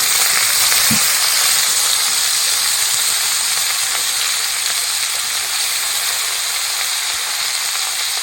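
Fried potatoes and freshly added cabbage sizzle loudly in hot oil in a pan, a dense, steady hiss that fills the whole stretch with one brief low knock early on and no voices.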